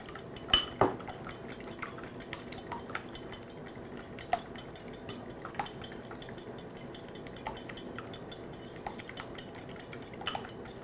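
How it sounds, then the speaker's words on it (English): Two eggs whisked with a small whisk in a bowl, a soft steady scraping and light clinking of metal against the dish, fairly quiet, with a sharper clink near the start. "I'm going to just mix the two eggs with a small whisk"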